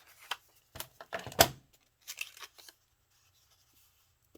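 Paper for a handmade junk journal notebook is trimmed with scissors: a handful of short, crisp snips and rustles in an irregular rhythm, close and fairly quiet, then near silence.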